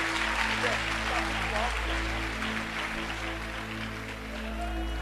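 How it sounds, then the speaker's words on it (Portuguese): A church congregation applauds while taking their seats during a service, a broad wash of clapping that carries over a steady electrical hum and faint voices throughout. "os que podem, tomem o seu assento aplaudindo a Jesus"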